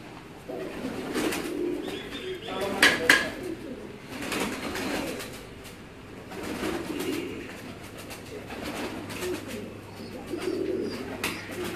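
Neel dumb breed pigeons coo softly in a loft. Low, repeated rolling coos rise and fall in gentle waves, with a brief flutter of wings near the start and no voices.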